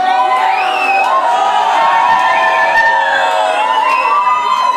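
A crowd at a DJ set cheers, whoops and screams continuously and loudly throughout, a dense wall of voices with no break.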